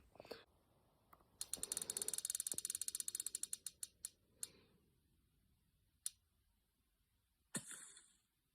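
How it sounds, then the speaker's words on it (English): A spinning wheel whirring into motion, a fast run of ratcheting clicks that slows and spaces out over a few seconds, followed by a couple of isolated knocks near the end. "We have the spinning wheel here, so let's do it."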